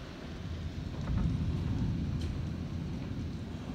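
Steady rain and wind fill a stormy yard with a dense, continuous roar that swells slightly midway, with no voices over it.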